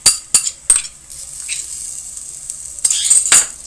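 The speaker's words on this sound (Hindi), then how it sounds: "थोड़ा चम्मच चला लेंगे।" A metal spoon clinks sharply against a pan several times while garlic and ginger sizzle softly in frying oil for biryani, the scraping and tapping coming in short clusters at the start and end.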